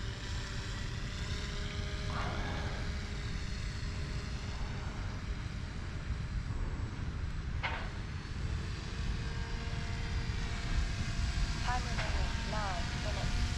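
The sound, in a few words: paramotor engine climbing into the wind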